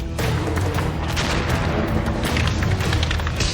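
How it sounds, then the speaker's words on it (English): Live ammunition cooking off in a wind-whipped campsite fire, heard as a dense, loud roar of flames with rapid irregular cracks and pops running throughout. "There's bullets going off."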